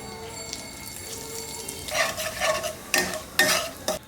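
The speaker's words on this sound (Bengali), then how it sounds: "ওই তেলেতেই ফোড়ন দিয়ে দেবো তেজপাতা আর গোটা জিরে।" Bay leaves and whole cumin drop into hot oil left from frying a hilsa fish head, bursting into loud crackling sizzle after a quiet start, then surging again in sharp spurts with occasional stirring.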